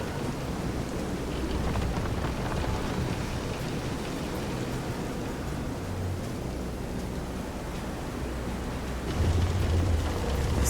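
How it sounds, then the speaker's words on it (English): A storm at sea in the video game Visions of Mana roars as a loud, steady wash of wind, rain and surging water, with a heavier rumble swelling near the end and no voices. "This is some storm."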